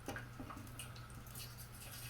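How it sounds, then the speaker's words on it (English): Isopropyl alcohol dripping out the bottom of an old 1950s Briggs & Stratton 23A-FB engine, heard as faint, irregular wet drips and squishes over a steady low hum. "it's starting to drip out the bottom"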